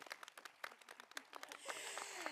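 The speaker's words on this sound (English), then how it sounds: "let's go ahead and give her a wonderful round of applause of thanks" At a high school graduation commencement, an audience applauds a departing staff member, a faint, scattered clapping of many hands that thickens into a fuller wash of applause toward the end.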